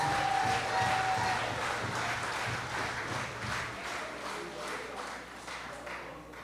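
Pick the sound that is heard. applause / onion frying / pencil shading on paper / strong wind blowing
applause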